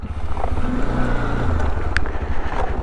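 Strong wind blowing hard against the microphone outdoors, a loud, steady rumbling buffet with gusty swells that fills the whole clip, with no talk.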